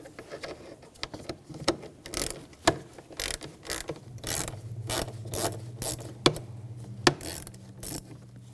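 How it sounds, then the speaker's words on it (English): A ratchet fitted with a 5mm hex socket loosens a bolt while swapping a high pressure fuel pump on a 2007-2013 BMW X5 3.0L inline-six, giving repeated close, sharp clicking bursts at an uneven pace with no talk. "I'm going to take this bolt out. Use a Hex socket. This is a 5mm."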